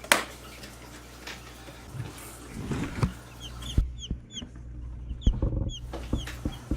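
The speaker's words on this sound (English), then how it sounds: "Aren't y'all supposed to be chirping?" Several short, high-pitched chirps from baby chicks of different breeds come in bursts over a low, steady hum and rustling, fairly close and moderately loud.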